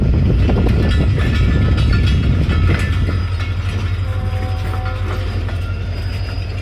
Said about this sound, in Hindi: हज़ारा भी स्लो स्लो निकल रही है यार्ड से